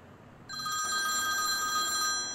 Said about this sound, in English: 1940s Western electric phone.